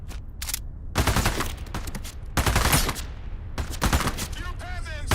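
Bursts of automatic gunfire rattle in the video game Into the Radius 2, several loud, rapid volleys separated by short pauses, with brief talk between them.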